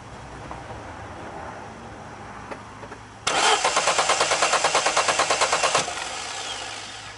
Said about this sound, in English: And then what we do, we crank.